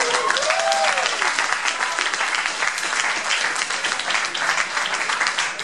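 An audience at a comedy open mic in Stuttgart claps loudly and continuously, a thick wash of applause with a few brief whoops near the start.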